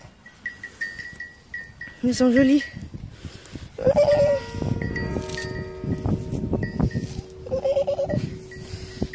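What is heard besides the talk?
goats bleating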